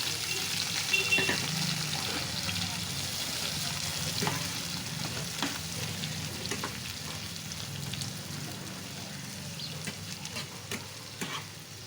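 Chopped onions frying in oil over tempered cumin seeds, a steady close sizzle with scattered scraping and stirring clicks throughout, no talking.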